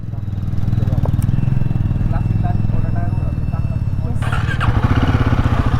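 Royal Enfield Himalayan 450 motorcycle starting and pulling away on its first ride, with a loud, close, steady engine chug throughout and a brief sharp rise near the end, while a person talks over it.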